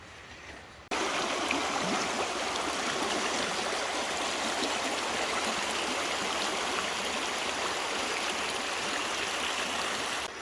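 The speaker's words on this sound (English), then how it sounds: "So the water here is flowing really, really well." Mountain stream water in Rocky Mountain National Park rushes and gurgles steadily, a dense close wash of flowing water that starts abruptly after a quieter instant and then continues unbroken.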